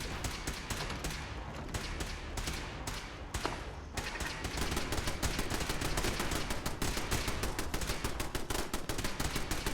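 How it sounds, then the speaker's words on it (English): Rapid gunfire in a Fallout 4 firefight, with dense bursts of shots, then heavier continuous automatic fire in a loud, steady rattling stream. "We appear to be under fire."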